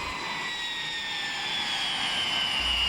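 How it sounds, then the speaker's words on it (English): A modified Boeing 720 used by Pratt & Whitney Canada as a flying engine test bed gives a loud, steady jet roar with a sustained high whine that holds throughout. "Pratt & Whitney Canada transformed this old workhorse into a flying engine test bed"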